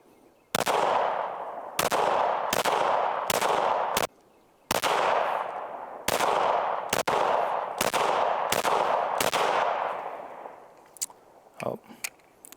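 A PSA Rock pistol fires FN-branded 40-grain Hornady V-MAX ammunition: about a dozen sharp, loud, close shots in a steady string with short gaps, followed by a few quieter metallic handling clicks after the firing stops.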